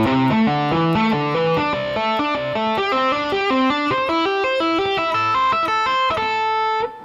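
A distorted electric guitar plays a finger-tapped pentatonic lick in a rapid, even stream of bright sustained notes that cascade through repeating patterns, loud and close, ending abruptly.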